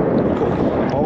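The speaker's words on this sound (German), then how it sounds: "das ist einfach zu windig" Strong wind roars into the microphone in a dense, constant rush of noise.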